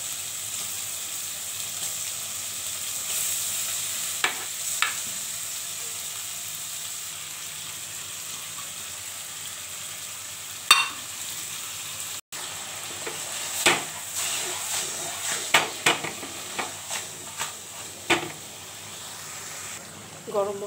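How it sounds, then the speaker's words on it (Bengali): Loita fish and onion fry in hot oil in a pan, a steady faint sizzle running throughout, with scattered clinks and stirring scrapes of a utensil toward the end. "এবার লইটা মাছটার প্রথমে পেঁয়াজটা এখানে দিয়ে দিচ্ছি। লইটা মাছটা ভালো করে মেখে নেব। লইটা মাছটা দিয়ে দিচ্ছি।"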